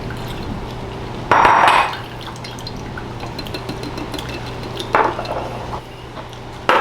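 Fresh fruit juice pulp poured into a jar in a kitchen, a steady liquid trickle under a low hum with two brief louder splashes or clinks, alone and fairly close.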